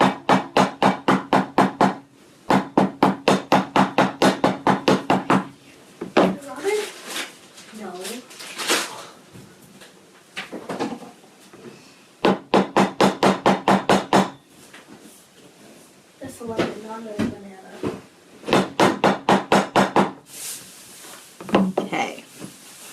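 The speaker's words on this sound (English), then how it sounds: "So actually I'm gonna hammer this out a little bit more because my paddles don't quite look the same." Metal earring wire paddles being flattened with a hammer, delivered in rapid bursts of loud, evenly spaced taps that alternate with stretches of talking.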